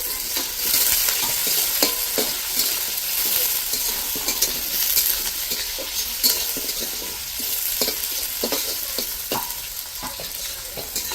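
Onions and garlic fry together in a pan for a chicken dish, a continuous close sizzle with frequent scraping stirs and clicks of the spatula throughout, fairly loud and without talk.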